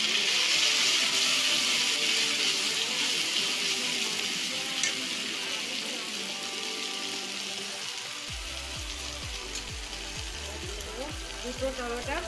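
Cardamom pods fry in hot oil for a vegetable dal, a bright steady sizzle close by that grows busier midway, with some rattling and stirring noises, and a voice speaks partway through.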